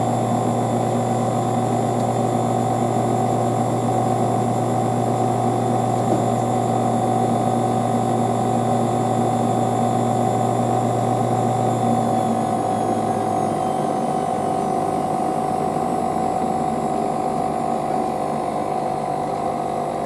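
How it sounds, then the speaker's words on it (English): Drain pump of a Hotpoint Casatta WM63 washing machine running on a 40°C cotton wash, a steady loud droning hum with a low tone that shifts partway through. "How loud the pump is"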